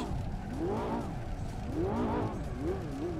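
A Ferrari drifting in the racing game Assetto Corsa, with its engine note rising and falling in repeated swells and a steady roar of tyre noise throughout, heard alone without talk.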